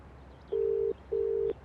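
Two long, even electronic telephone tones sound one after the other with a short pause between, clear and fairly quiet, as a call is placed with nobody talking.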